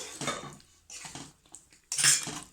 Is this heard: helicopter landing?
no